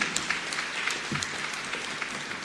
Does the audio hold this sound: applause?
yes